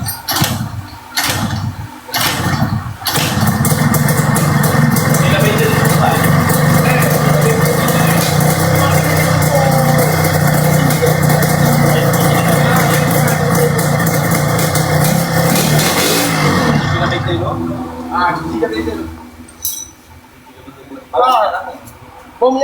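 A Yamaha RXZ two-stroke motorcycle engine starts with a few sputtering catches, then runs loudly and steadily close by for a long stretch before cutting out, followed by quieter handling noises and brief talk.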